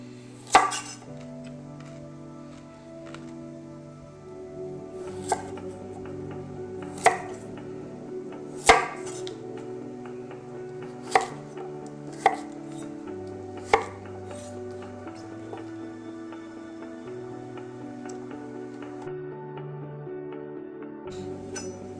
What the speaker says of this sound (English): I'm just going to cut the carrots into some batons